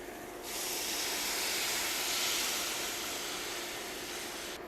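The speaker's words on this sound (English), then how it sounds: "Now add 1 cup of a very dry white wine" Dry vermouth poured into a pan of softened sautéed onion and garlic, a sudden loud hiss that starts abruptly and holds as a broad, steady steaming sizzle.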